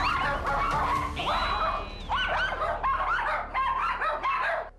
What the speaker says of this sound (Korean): 장군이가 먼저 달려들어 짖기 시작하면 이를 본 호두까지 흥분해 짖기 시작한다는 겁니다